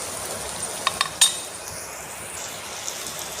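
Onion and tomato tempering with curry leaves and coriander is stirred in oil inside a rice cooker, a faint low sizzle under a few quick metallic clicks of a spoon against the pot.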